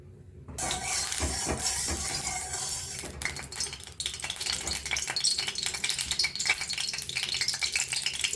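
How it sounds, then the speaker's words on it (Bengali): An egg fries in a hot pan: glassy clinks and rattles first, then a bright, steady sizzling hiss that carries on to the end, close up and without talk. "গরম হয়ে গেছে আমি ডিমটা এবারে ভেজে নেবো"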